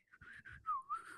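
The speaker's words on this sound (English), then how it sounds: "Oh, boy, that was a bad whistle." A person whistles a short, wobbly run of notes, thin and uneven, ending in a sliding pitch dip and rise, close and fairly quiet.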